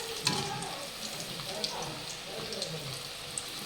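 Kebabs fry in hot oil with a soft, steady sizzle. Occasional small pops and clinks rise above it, and a voice can be heard at moments.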